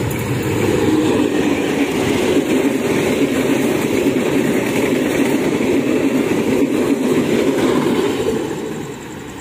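A diesel-hauled Doho passenger train in Indonesia, drawn by a CC-class locomotive near Mojokerto station, roars past loud and close, a heavy continuous rumble and engine drone lasting about nine seconds before easing slightly.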